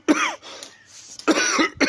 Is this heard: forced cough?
yes